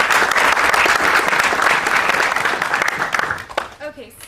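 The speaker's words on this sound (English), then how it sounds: "warm round of applause" A live audience at a deep learning and AI session in Oslo gives a warm round of applause to welcome the host, loud sustained clapping that fades out before a voice speaks briefly at the end.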